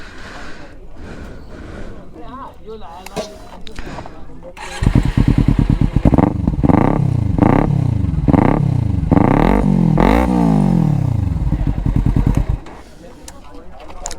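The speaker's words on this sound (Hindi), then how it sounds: "तो ये भाई हमारा था एग्जॉस्ट निंजा 300 का।" Kawasaki Ninja 300 BS6 twin-cylinder motorcycle with an Akrapovic exhaust, starting up nearby and then revved repeatedly in loud swelling bursts over a rumbling idle, before shutting off.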